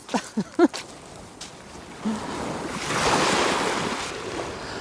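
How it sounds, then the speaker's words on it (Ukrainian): Sea waves roll onto a beach at the Golden Coast, a soft surf wash swelling in the second half over gusty wind noise on the microphone, after a few brief nearby sounds at the start. "Так, Растя, море чекає нас"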